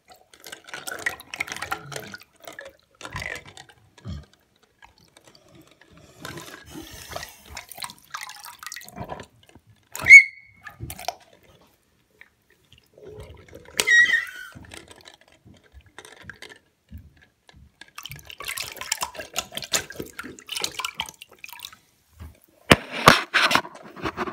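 Water drips and small splashes from a toy shark swimming, scattered light plops and trickles coming in irregular bursts, close by with quiet gaps between them.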